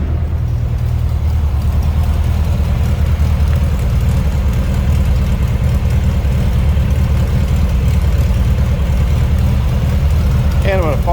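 The rear-mounted engine of a 1952 MG TD Roadster replica idling steadily, a low throbbing rumble heard from close behind the car, continuous and even throughout.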